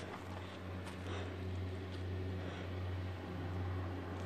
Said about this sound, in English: Somebody's bringing their boat.